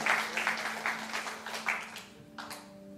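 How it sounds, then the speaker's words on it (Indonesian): A church congregation claps in a steady, even rhythm over a sustained musical tone, the clapping fading out after about two seconds. "Berikan tepuk tangan buat Tuhan."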